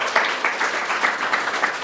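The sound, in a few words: audience applause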